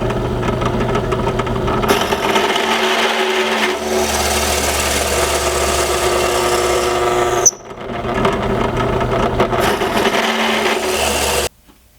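A drill press cuts walnut plugs from scrap walnut with a plug cutter bit, a loud steady whirring grind in two long passes broken by a brief pause, ending in a sudden stop.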